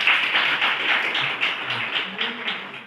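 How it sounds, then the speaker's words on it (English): An audience of school principals at an in-house training session applauds a speaker, a moderately loud patter of many hands clapping steadily throughout, with faint murmuring underneath. "We can clap for MP Singh sir."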